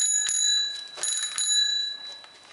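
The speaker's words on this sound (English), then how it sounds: "this is the bell, and this is what it sounds like" A bicycle bell rings repeatedly in a few quick bright dings, close and clear, with the metallic tone lingering between strikes.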